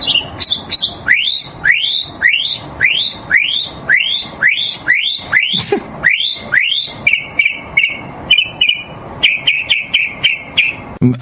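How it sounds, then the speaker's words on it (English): A recorded mockingbird sings a long run of rising whistled phrases repeated in quick series, then switches to rapid trilled notes, loud and clear with no talk. "play the Mockingbird clip"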